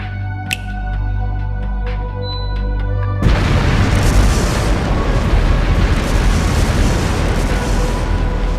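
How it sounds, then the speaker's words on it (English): Explosive artifacts go off in the video game Trails Through Daybreak: a sharp blast lands at about three seconds, then a loud, dense roar of explosions and rumble carries on steadily to the end, with no voices. "Explosive artifacts!"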